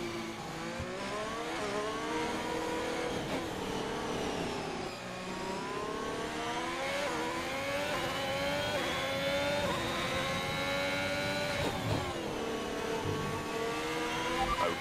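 A race car accelerates up to speed, its engine note climbing steadily and dropping briefly at gear shifts before rising again. The loud, continuous revving stays close throughout, with no talk.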